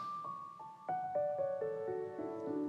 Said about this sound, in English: the moment he puts his foot on the sustain pedal, it sounds like this.